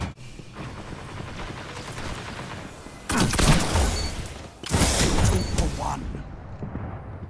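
Shotgun blasts ring out in a Destiny Crucible match, two heavy booming bursts that each trail off over a steady bed of game noise.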